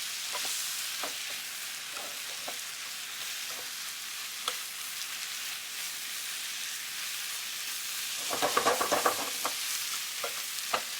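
Spinach wilts in a pan for a crab, spinach and artichoke dip, giving a soft, steady sizzle. Scattered scrapes and taps of stirring come through, and they turn into a busier clatter near the end.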